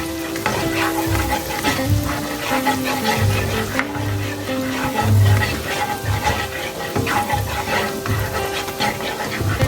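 Diced onion sizzles steadily in a hot pan with minced garlic, a continuous loud fry broken by repeated scraping stirs, with no talking.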